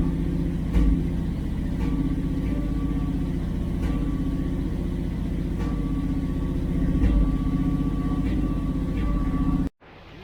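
The engine of a 1966 Dodge Charger with a Holley 4150 carburetor idles steadily and low, with a deep even rumble and faint periodic ticks before cutting out abruptly at the end.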